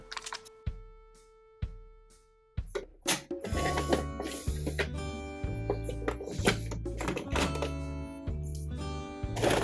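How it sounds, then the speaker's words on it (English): Small old sewing machine stitching fabric: a few separate clunks and taps as it starts, then a loud, close, rapid mechanical chatter of the needle running with rhythmic thumps and whirring. "we're gonna pull out a little old sewing machine here"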